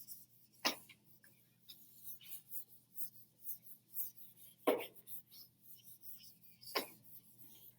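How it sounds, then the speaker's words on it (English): Chalk or marker board being erased in a classroom, with a few scattered scraping rubs and taps at close range, fairly quiet, no voices. "I am going to erase some of these."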